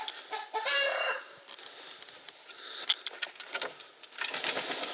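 Rhode Island Red mix chickens and a rooster in a big coop, with scattered clucks and short calls near and far over steady flock chatter.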